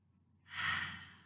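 A single slow, soft exhale during a gentle yoga session, a breathy sigh rising and then tapering away, close and quiet.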